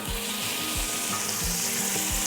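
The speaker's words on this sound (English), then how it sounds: "I'm going to put the shrimp in." Shrimp fry in a hot pan for kritharoto, giving a continuous loud sizzle, with a few soft low thumps at regular intervals beneath the hiss.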